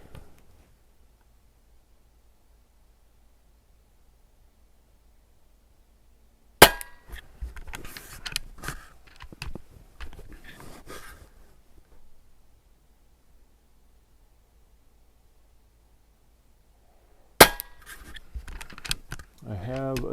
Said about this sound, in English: What we're gonna do now is give you the target view of a 10-shot group.